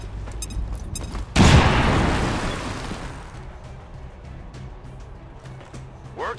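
Grenade explosion in the video game XCOM 2, a single loud booming blast that decays over a couple of seconds, preceded by brief clicks and followed by quieter game ambience.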